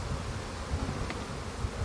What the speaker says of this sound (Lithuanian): Ir čia velniškai daug bičių